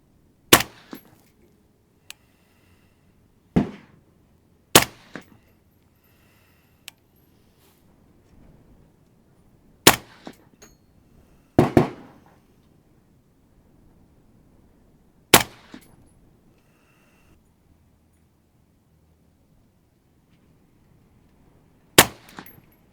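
Rifle shots of Hornady V-Match ammo ring out at a range, sharp loud cracks spaced several seconds apart, about seven in all, each with a short tail, with quiet handling noises between.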